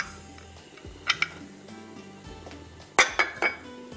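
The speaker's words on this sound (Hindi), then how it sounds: "यहाँ पर मैं इसको चॉप करती हूँ लहसुन को" Fresh garlic is chopped with a knife, giving a few sharp, close taps and clicks on the board: two quick ones, a pause, then three more in a short cluster.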